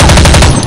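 A quick, loud burst of automatic rifle fire in Counter-Strike 1.6 on the de_chateau map, several rapid shots close up, cut off after under a second.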